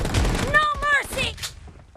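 Gunfire in a BGMI team deathmatch with a double-barrel shotgun, a short loud burst of blasts mixed under a game voice callout, fading to a decaying tail.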